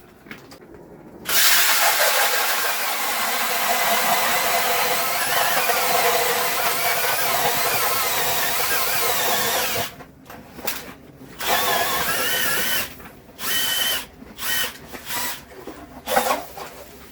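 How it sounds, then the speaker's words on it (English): An ice auger bores a fishing hole through lake ice, a close, continuous grinding whir that runs for several seconds, then stops and starts in short bursts as the drill is pulsed. "And I guess he's getting ready to drill another hole."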